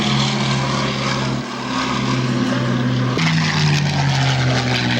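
A Spitfire PR XI propeller aircraft flies at the Biggin Hill Battle of Britain air show, its piston engine giving a steady, loud droning growl with a shift in pitch partway through.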